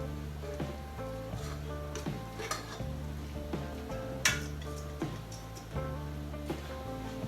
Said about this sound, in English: I'm fixing to add my zucchini and onion to my boiler